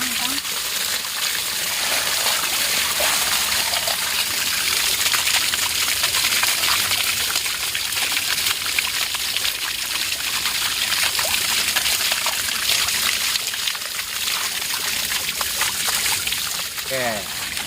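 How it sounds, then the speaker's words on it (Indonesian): Water from the Cigolombrang spring flows and trickles steadily, a continuous rushing wash that stays loud throughout while people talk over it. "Ini mata air Cigolombrang."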